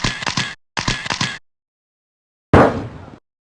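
Camera shutter from the Arthur's Teacher Trouble video game: two short noisy bursts, then a sharp snap with a quickly fading tail, all fairly close with silence between.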